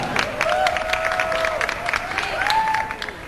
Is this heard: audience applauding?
yes